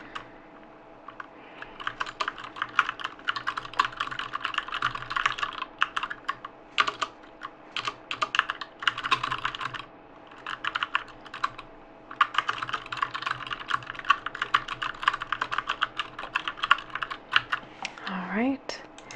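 Steady typing on a computer keyboard with occasional mouse clicks during a telephone housing survey, close and crisp, keystrokes coming in bursts separated by brief pauses, with quiet talk in the background.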